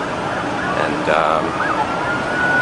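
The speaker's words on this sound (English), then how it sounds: "now there's a lot of police activity and sirens" Police sirens wail through a busy outdoor scene in New York City during the 9/11 attacks, their rising and falling tones blending with traffic and crowd noise at a moderate distance.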